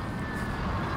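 Futuristic aircraft engine roar from Call of Duty: Infinite Warfare, a steady, dense broadband drone with a faint high whine, continuous and loud for the whole second with no speech.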